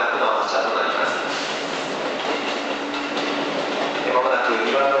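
A train rolls through Kyoto Station with a steady broadband rumble and faint rail clatter, loud and continuous throughout.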